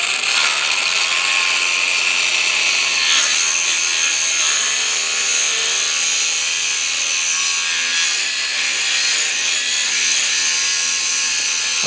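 A Parkside cordless mini angle grinder cuts through a 1/2 inch wooden dowel, giving a steady, loud high-pitched whine with a rasping grind that holds for the whole stretch, the workpiece being turned partway through.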